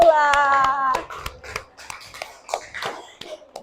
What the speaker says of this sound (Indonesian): Kasih tepuk tangan dulu untuk Alula.